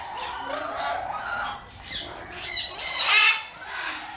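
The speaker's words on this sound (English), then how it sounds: "We've got some yellow-naped Amazons brawling a little bit" Yellow-naped Amazon parrots squawk while brawling among their cage toys, giving a few loud, harsh calls in close succession, the sharpest burst near the end.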